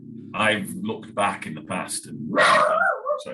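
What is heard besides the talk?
dog barking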